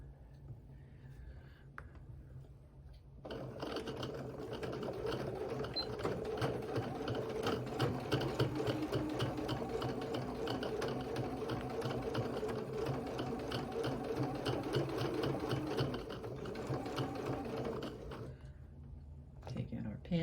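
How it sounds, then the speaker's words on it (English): A sewing machine runs steadily for about fifteen seconds, stitching a narrow seam along a fabric edge with a fast, even rhythmic chatter, close and moderately quiet, starting and stopping cleanly with near silence on either side. "I'm going to do about 1/8 of an inch seam right along the edge there."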